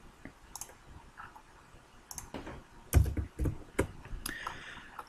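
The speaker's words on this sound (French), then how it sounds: "Donc je copie et je colle." Sparse keyboard clicks and taps while code is copied and pasted on a computer, a few quiet isolated keystrokes and a short cluster of firmer clicks, close and soft.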